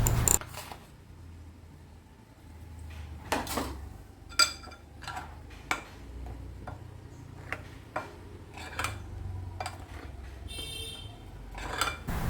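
Wheat flour being stirred into batter in a bowl for an aval (flattened rice) kinnathappam, a spoon knocking and scraping against the bowl in irregular light ticks and clinks, close and fairly quiet, with no talking.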